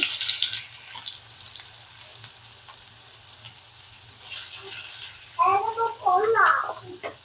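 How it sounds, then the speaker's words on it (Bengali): Onions and garlic fry in a small amount of oil for a dried-fish shutki bhorta, giving a faint, steady sizzle in a quiet kitchen, with a few brighter, louder sounds breaking in near the end. "পেঁয়াজগুলো ভেজে নেব।"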